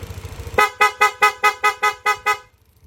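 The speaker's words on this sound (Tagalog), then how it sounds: "Pia horn." A Pia horn fitted to a Yamaha NMAX Techmax scooter blasts eight rapid, evenly spaced loud honks in quick succession, close up, after a faint low idling rumble.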